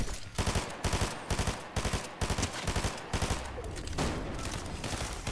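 Rapid bursts of gunfire from the Fortnite video game, many sharp shots fired in quick clustered volleys with short gaps, loud and close, ending in a denser rattling stretch.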